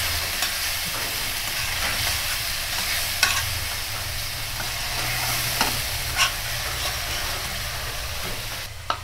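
Onion and ginger-garlic paste fry in hot oil for a mutton biryani, a steady close sizzle with occasional stirring scrapes and clicks running throughout, no voices.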